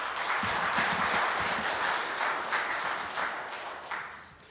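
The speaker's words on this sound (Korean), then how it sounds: "우리 지벨리 CEO 여러분 모두를 위해서 큰 박수 한번 부탁드리겠습니다." CEOs and guests at a Korean business forum give a big round of applause, dense continuous clapping filling the room throughout, tapering slightly toward the end.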